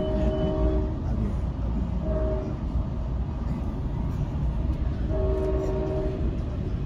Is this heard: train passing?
yes